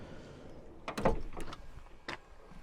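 A short mechanical whir and clunk as the electric step of a 2025 Auto-Trail V-Line 636 SE camper van slides out, with a few knocks and a door-like thud, close by and moderately quiet.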